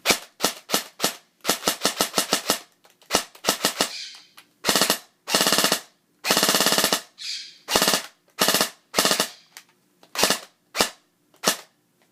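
Custom JG G36 airsoft gun on a 9.6 volt battery firing close up, sharp rapid semi-auto shots mixed with short full-auto bursts, each burst a crisp mechanical rattle with quick silences between.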